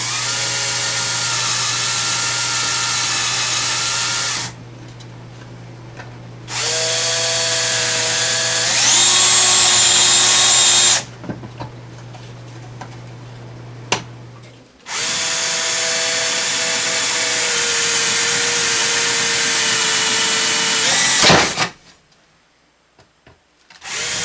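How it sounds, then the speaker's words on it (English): A power drill bores out the rivets holding a tin plate on a restored Jensen Model 35 toy steam engine, several loud whining bursts separated by short pauses, close up and with no talking. "we're gonna have to pull these rivets here"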